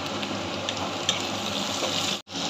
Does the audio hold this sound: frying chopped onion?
yes